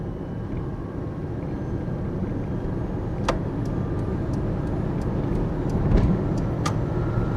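An electric Nissan Bluebird climbs a long hill, a steady close road rumble and whine of tyres and motor building gradually, with a few faint clicks above it.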